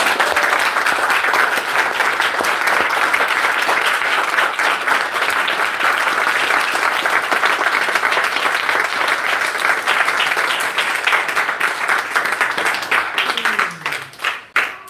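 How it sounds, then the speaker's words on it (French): A church congregation claps in loud, sustained applause that fills the room evenly, then thins and fades out near the end. "Applaudissons pour le Père."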